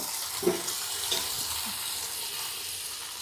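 Chicken frying lightly in a pan for chicken donne biryani, a steady soft sizzle running throughout with a couple of faint clinks, fairly quiet and with no talking.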